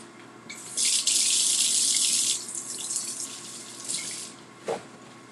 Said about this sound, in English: I'm going to go ahead and wash my hands.